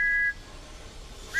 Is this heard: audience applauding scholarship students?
no